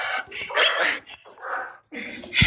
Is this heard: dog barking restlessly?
yes